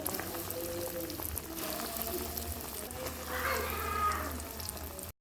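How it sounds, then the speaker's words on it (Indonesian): Cireng, a fried cassava-starch snack, crackles and sizzles steadily in pre-heated oil, a dense continuous frying hiss with a few louder bubbling pops midway. "langsung kita goreng cireng di minyak yang sudah dipanaskan"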